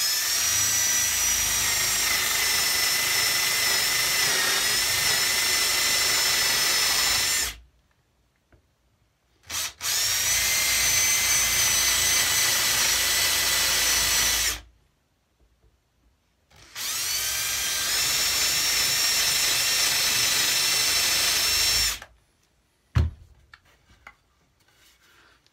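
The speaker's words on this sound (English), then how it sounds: "Now I'm just going to drill these from memory." An electric drill whines in three long bursts of several seconds each while drilling holes in a cigar box guitar, separated by short pauses, with a faint clunk near the end.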